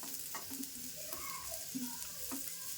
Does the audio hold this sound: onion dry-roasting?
yes